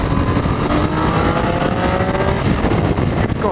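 A Triumph Street Triple motorcycle engine revs loud and close on a countryside ride, a continuous throaty drone with rising pitch sweeps as the revs climb, wind rush layered underneath.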